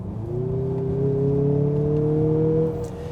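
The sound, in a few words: Mazda CX-50 Turbo engine revving while accelerating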